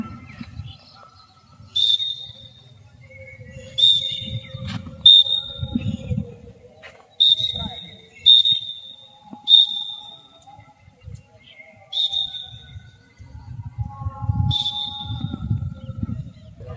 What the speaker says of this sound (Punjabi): ਸੀਟੀ ਵੀ ਮਾਰਦਾ ਮੈਂ ਤੁਰੀ ਜਾਣਾ